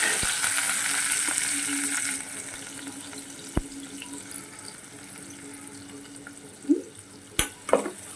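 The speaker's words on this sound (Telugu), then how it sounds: "ఉల్లిపాయలు, పచ్చిమిర్చి ఆయిల్ పెట్టుకొని అల్లం వెల్లుల్లి పేస్ట్ సహా వేసేస్తాం" Onions, green chillies and ginger-garlic paste fry in oil for a chickpea and potato chole masala curry. A hissing sizzle fills the first two seconds, then eases to a low background, with a few sharp clicks and knocks near the end.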